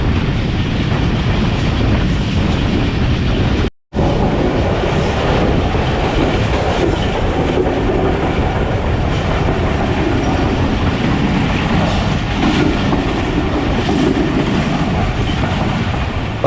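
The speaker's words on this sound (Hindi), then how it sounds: "पाकिस्तान एक्सप्रेस फैसलाबाद शहर में दाखिल हो गई है" The Pakistan Express rumbles loudly and steadily over the rails on its way into Faisalabad, a continuous close roar with wheel clatter and one brief dropout early on.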